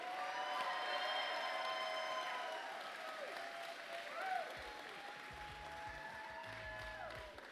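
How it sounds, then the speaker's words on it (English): Steady crowd applause rolls on, dense and even throughout with faint background tones, and no voices are heard over it. "So a good round of applause to good health care."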